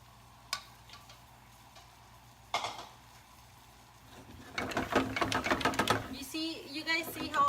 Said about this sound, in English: You guys see how I'm just stirring it with the with the pan.